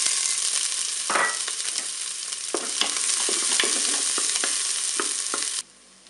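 Onions sizzling in a tablespoon of oil in a preheated Cookeo pressure cooker pot, a loud steady frying hiss with occasional stirring scrapes and taps, cutting off abruptly near the end.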